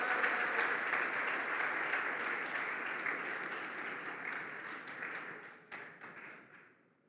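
A church congregation applauds steadily and loudly during a sermon, the dense clapping gradually thinning and fading out toward the end.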